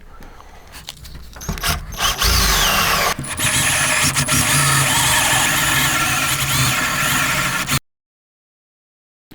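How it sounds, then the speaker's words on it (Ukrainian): A power tool spins a rubber wheel against a car body to strip leftover double-sided tape residue, giving a loud, steady whirring grind with a few bumps near the start, running for several seconds before cutting off abruptly. "Ось таким резиновим кругом знімаємо залишки двостороннього скотчу."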